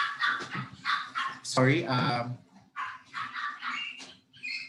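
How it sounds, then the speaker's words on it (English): Dogs bark and yip in the background during an online teaching session, their short, repeated barks mixed under steady nearby speech from someone talking throughout. "those are the dogs, I'm sorry."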